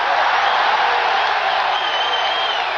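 A boxing arena crowd rises for Muhammad Ali before his 1980 fight with Larry Holmes, a loud, continuous roar of cheering that fills the space without a break.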